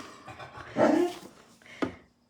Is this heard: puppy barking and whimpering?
yes